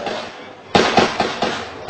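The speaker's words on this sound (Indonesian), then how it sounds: "ini adalah tembakan-tembakan yang terjadi" Sharp gunshots ring out during a police raid on a terrorist house in Ciputat, four distinct cracks in quick irregular succession after a quieter stretch, heard from some distance.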